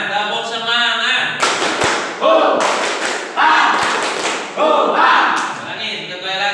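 A class performs the rhythmic spirit clap, tepuk semangat, with bursts of patterned group clapping and thuds alternating with chanted voices in a room.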